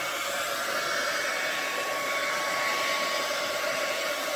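A blow dryer runs steadily and close over a Dutch pour acrylic painting made with house paint and dollar-store acrylics, giving a continuous loud whirring hiss with no pauses.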